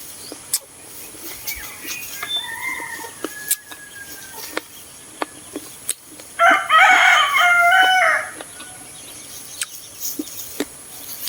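A rooster crows loudly and close by for a couple of seconds in the morning in the rural Philippines, with scattered clucks from free-roaming chickens and faint insect chirping around it.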